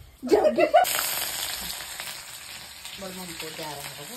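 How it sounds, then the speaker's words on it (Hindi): Red chillies roast and sizzle over a fire, a crackling frying hiss that follows a few sharp pops at the start. A voice speaks briefly near the end. "यहाँ देखिए लाल मिर्च भूनने लगी है"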